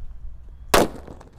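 A Colorful Thunder firecracker goes off in a single sharp, loud bang that breaks a quiet backdrop, followed by a short crackling tail as it fades.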